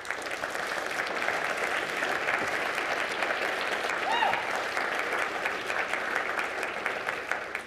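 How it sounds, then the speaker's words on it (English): Sustained applause from a conference audience at a nicotine and tobacco research keynote plenary, a dense even wash of clapping from a large crowd that holds steady throughout with no speech over it. "for that, you should give yourselves a round of applause"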